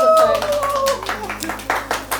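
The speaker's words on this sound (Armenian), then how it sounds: "բա ծափեր տվեք, ծափեր տվեք։" At a birthday surprise, a few people clap their hands in a loose, rhythmic pattern of distinct claps after someone briefly speaks at the start.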